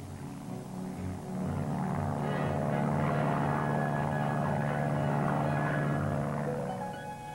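Search aircraft fly over Antarctica during Operation Deepfreeze, giving a droning, propeller-like hum. It swells in the middle, holds steady, then eases off, with no talk.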